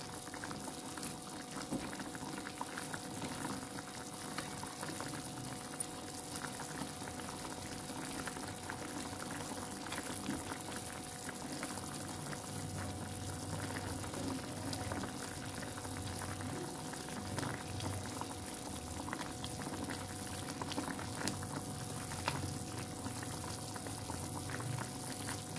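Chicken simmering in a yellow spice broth for Indonesian ayam ungkep, a continuous bubbling boil with a steady liquid texture, even and unbroken, no talk.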